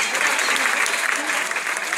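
Steady, dense applause from an audience at a social dance party exhibition honoring a dance school, loud and continuous throughout with no break.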